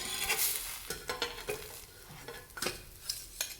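An onion and tomato uttapam frying on a griddle in a home kitchen, giving a steady soft sizzle broken by scraping and spatula taps against the pan, with no voices.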